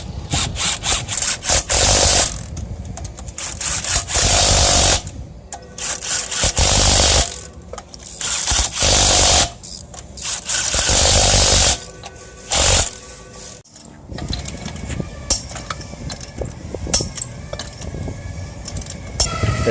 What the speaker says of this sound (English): They're finishing up, torquing down all of the lug nuts to spec.